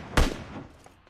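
A single loud gunshot in the mobile battle-royale game PUBG Mobile cracks sharply up close, then fades out in a short echoing tail.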